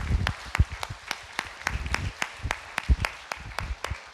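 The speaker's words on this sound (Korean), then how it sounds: "하나님께 영광의 박수 올려드리겠습니다" A church congregation claps in a steady, rhythmic beat during a Sunday service, the crisp claps close and evenly spaced with no talking over them.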